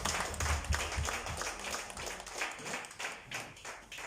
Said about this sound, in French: Donc, sous vos applaudissements, nous invitons le frère Marius.